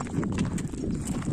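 Free-roaming horses moving nearby, a steady low shuffle of hooves on the ground under constant outdoor rumble, with no clear voice.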